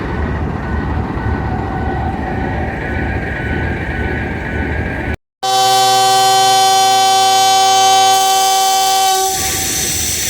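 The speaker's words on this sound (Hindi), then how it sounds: "डिपार्चर विसल हो चुका है, 4:30 हुए हैं और विसल हो गया है" Rail noise rumbles at a station before the Subak Kharam Express, led by locomotive GU2455, sounds a loud, sustained departure horn, a rich multi-tone blast of several seconds nearby, then fades into engine noise.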